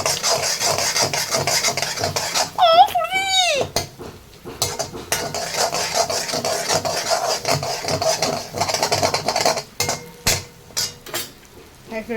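Fried rice with egg being stirred in a pan: repeated scraping and clattering of a spatula against metal, with a brief squeaky sweep early on and uneven bursts of activity, close and fairly loud.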